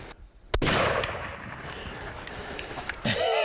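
Single sharp rifle shot fired at a Cape buffalo on safari, a loud close crack followed by a long rumbling echo and outdoor wind, with a second fainter report near the end.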